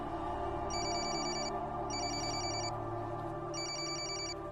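A mobile phone ringtone trills in three repeated bursts over a steady background hum, electronic and fairly close.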